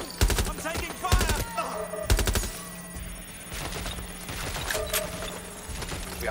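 Rapid bursts of automatic gunfire in the video game Watch Dogs: Legion, loud and close, arriving in short volleys about a second apart before easing into lighter scattered shots and game sounds.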